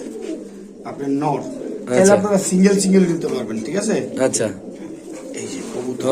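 Local pigeons kept for sale in Bangladesh coo in low, throaty bursts, mixed with steady nearby talk throughout.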